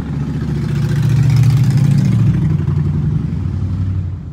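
Steady low rumble of car engines passing nearby on a busy street, continuous traffic noise with no voices.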